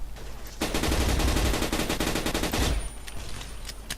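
Gunfire from a gun in the first-person shooter Blockade: one long, loud automatic burst of rapid shots lasting about two seconds, then fading into quieter game ambience.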